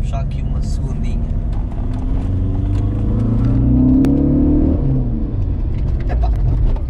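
A Seat Ibiza engine pulls hard in a gear, a loud continuous roar heard from inside the car that climbs in pitch as it accelerates, then eases off, with someone talking over it.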